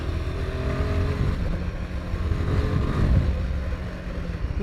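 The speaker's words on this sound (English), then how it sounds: "Spinning the back wheel in third gear" Royal Enfield Himalayan 450 motorcycle engine pulling hard in third gear with the rear wheel spinning, a loud, steady throaty drone close by, rising slightly in intensity toward the end.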